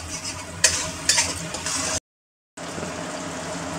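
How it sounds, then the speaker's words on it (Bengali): Spice paste of ginger, garlic and green chili fries in a pan, a steady close sizzle with two sharper spits as it is stirred, then a brief silent gap before the frying resumes. "আদা, রসুন, কাঁচা লঙ্কা বাটা দিয়ে এটাকে আবার একটু সুন্দর করে মশলাটাকে কষিয়ে নেব মিনিট 2-এর জন্য"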